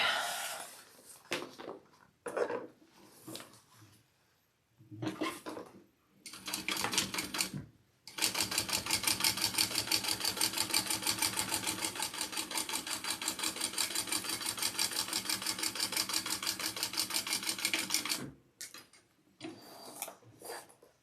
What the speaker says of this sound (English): Now I'm going to stitch the bottom down.